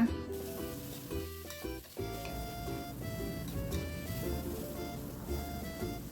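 Fresh shrimp are tossed into a hot pan for a stir-fry with chili and stink beans, giving a steady close sizzle and crackle under background music, with no talking.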